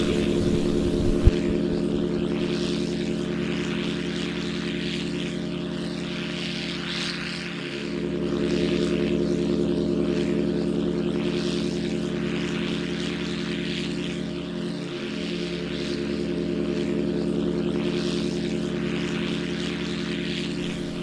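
A propeller-driven drone drones on steadily overhead in flight, a sustained loud buzzing engine tone that dips briefly twice without stopping, with no voices.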